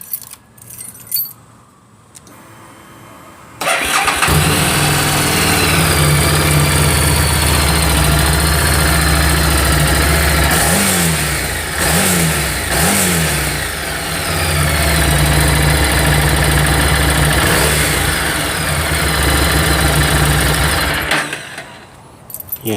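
A Harley-Davidson Street 750 with its original exhaust starts up and settles into a steady, fairly smooth idle, close by, with a slight rise in revs midway before cutting off.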